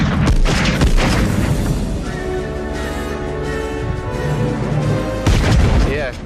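Heavy gunshots from the film Die Hard boom in a rapid burst at the start, then fade into a lingering, reverberant background before another loud shot near the end.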